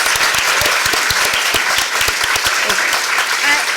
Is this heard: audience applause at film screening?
yes